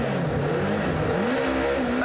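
Super touring race cars, among them a BMW, pull away from the start at a 1996 South African championship round at Goldfields, engines revving loudly and rising in pitch under continuous commentary.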